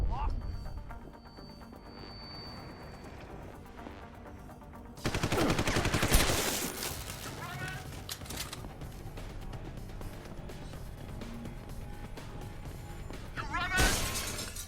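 Frag grenade blast and gunfire in the video game Deus Ex: Human Revolution: a sudden loud burst of shots and shattering debris, followed by continued combat noise and a second sharp burst near the end, with game voices talking over it.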